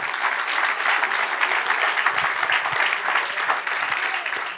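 A church congregation applauding steadily and loudly during a sermon class, a dense wash of clapping hands throughout, with a few faint voices mixed in.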